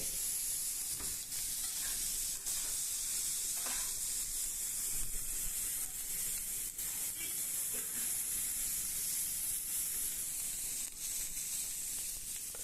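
Bajji chillies and capsicum sauté in oil with salt, giving a steady, close sizzle and hiss with occasional stirring scrapes throughout, without talk.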